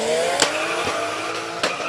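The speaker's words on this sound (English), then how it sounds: "And here's a firm favorite of mine, Subaru WRX STI." A Subaru WRX STI races in a hill climb in Cape Town, its engine buzzing as it accelerates hard with sharp gear shifts, heard at moderate distance.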